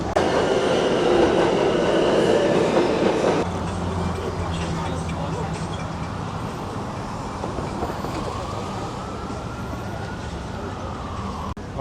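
A New York City subway train in Manhattan rumbles steadily, loud and close, with a rising metallic whine toward the end.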